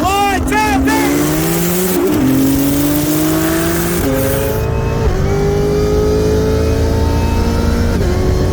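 A Porsche 911 Turbo with an XR turbo kit on 93 octane and methanol races a C7 Corvette Z06 with a Magnuson 2650 supercharger, engines screaming loud and close through rising gear pulls with sharp shift breaks.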